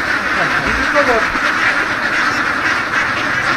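Ducks quack on a farm in Misamis Occidental, a few scattered calls heard under loud nearby talking and outdoor background noise.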